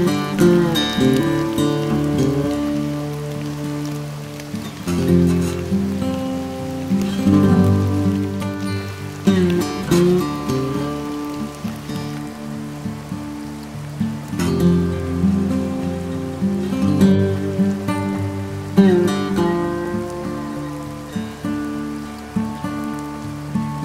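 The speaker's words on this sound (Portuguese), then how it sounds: "É chuva, meu senhor, é chuva mesmo." Rain falls steadily at a friends' campsite, with a continuous patter on surfaces mixed with a loud, strongly tonal layer that pulses and repeats throughout and no clear speech.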